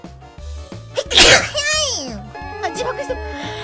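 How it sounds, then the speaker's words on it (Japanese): A single loud, sharp sneeze bursts out near the mic over a repeating game-style background tune, followed by a voice that rises and falls. "自爆してくしゃみだよ。"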